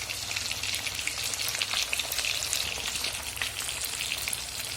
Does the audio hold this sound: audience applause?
no